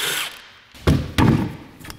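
Power tool loosening the rear wheels of a 2004-2008 Acura TL, two short loud rattling bursts of an impact gun, close by, with quieter whirring around them.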